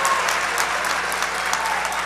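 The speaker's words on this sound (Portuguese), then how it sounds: "Vamos aplaudir a Jesus direito" A church congregation claps in dense, sustained applause for about two seconds, loud and close, with no voices rising above it.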